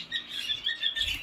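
Birds flutter near grain held in an outstretched hand on a farm, giving quick, high, repeated chirps close by in a brief burst.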